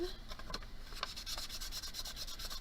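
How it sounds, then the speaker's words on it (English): Sandpaper rubs against a sharp point on a beaded cabochon pendant, a quick run of soft, close, rhythmic scratchy strokes with no talking. "That is something that I would use some sandpaper to just get rid of."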